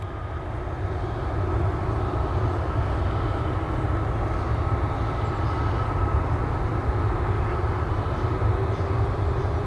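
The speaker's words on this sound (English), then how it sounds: "Here I can hear a departure on the other runway right now" An Alaska Boeing 737 MAX 9 departs on a runway, heard as a steady, loud roar of jet engines that holds evenly throughout with no let-up.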